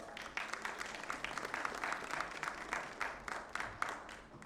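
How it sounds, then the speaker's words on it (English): A fairly quiet round of applause for the session chair at an actuarial conference, with distinct individual claps audible in the hall, their rhythm slightly uneven and swelling and easing throughout. "Please give a huge round of applause"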